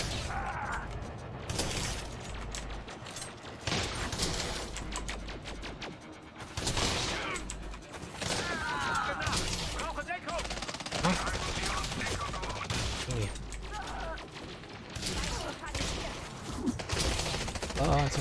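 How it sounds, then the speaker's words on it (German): Gunfire in the sci-fi shooter Elite Dangerous Odyssey, continuous rapid bursts and crackling shots with sharp impacts and shattering, loud and sustained throughout with brief lulls. "Oder auf alle schießen."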